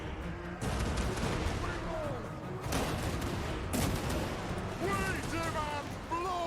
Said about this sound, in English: Organ gunner! Oh, hit them, please.